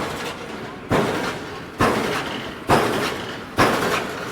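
An old steam-era pile driver at a threshermen's park pounds in a steady rhythm, five heavy thuds about one second apart, each a sharp loud impact fading quickly under general outdoor noise.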